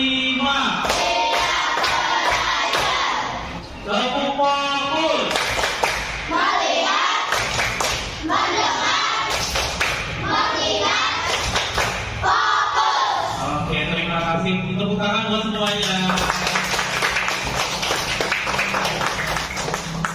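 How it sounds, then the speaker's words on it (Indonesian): Hand claps in counted beats during a classroom lesson, with groups of sharp claps and thumps rising in number while voices, including children, talk and call out loudly over them throughout. "Coba tepuk 1, tepuk 2, tepuk 3, tepuk 4"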